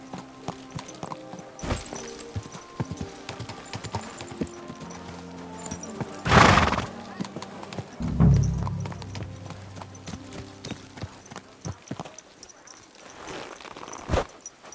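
A horse in the video game Kingdom Come: Deliverance 2 walks with steady clip-clop hooves, snorts and gives a loud whinny partway through, with more scattered hoof clatter and rustling around it.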